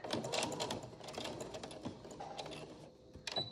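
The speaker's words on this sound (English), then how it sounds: "let's get this in the machine. And straight stitch down" A sewing machine straight stitching a fabric face mask, quiet rapid mechanical chattering in bursts with small clicks and pauses between runs, no voices over it.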